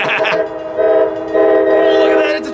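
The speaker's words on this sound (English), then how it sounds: "Sounds like a train to me." A train rumbles past at Carlsbad Village Station with a steady, droning tone that swells and fades, its horn-like hum rising briefly in the middle.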